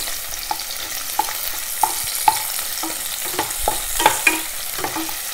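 Onions sauté in a pan for a bean pulav, giving a steady close sizzle broken by repeated sharp clicks and scrapes of stirring, with no talk.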